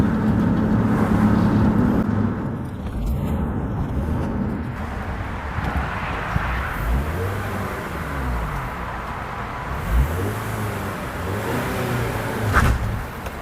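A 2006 Honda Element engine revs and surges as its failing automatic transmission slips, with pitch sweeping up and down in repeated waves. The drone is loud and continuous from inside the vehicle.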